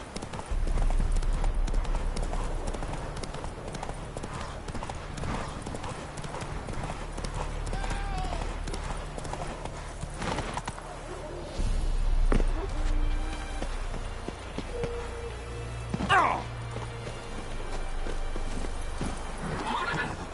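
Horse hooves clip-clop steadily at a walk in The Witcher 3, with an occasional neigh and a brief louder burst partway through, over a continuous game soundscape and background voices.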